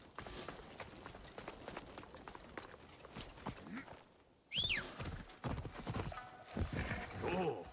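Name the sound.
horse hooves clip-clopping in video game AC Shadows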